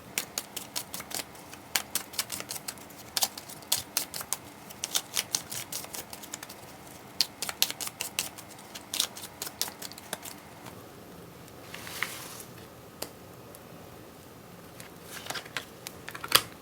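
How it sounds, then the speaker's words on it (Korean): Tarot cards are shuffled by hand in quick flurries of crisp clicks and snaps, arriving in bursts with short pauses in between, alone and close up without talk. "저는 카드를 섞을게요."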